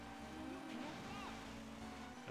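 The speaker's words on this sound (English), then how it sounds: "Got the waves crashing on us" Waves crash and surge in the N64 racing game Wave Race 64, a steady loud wash of water and engine-like roar filling the whole moment without a break.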